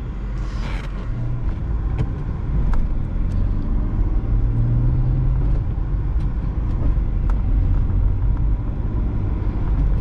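A 1980 Mercedes engine drones steadily from inside the cabin, a low rumbling hum that rises slightly as it accelerates in city traffic, with no talking.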